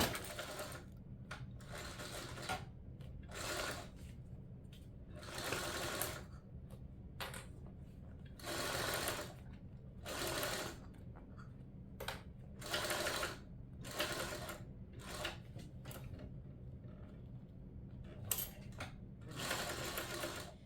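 A sewing machine stitches a gusset seam down to a notch in repeated short runs, its whirring bursts starting and stopping in a steady rhythm, close and fairly quiet with no talk.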